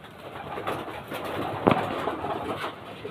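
Pigeons coo close by among a loft of fancy racing pigeons, a few soft rolling calls over a quiet background with no talk.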